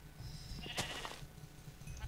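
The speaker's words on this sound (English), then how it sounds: "I'm killing all the sheep so we can all have a bed." Sheep in Minecraft let out a single bleat, clear and fairly close, over a low background hum with faint clicks around it.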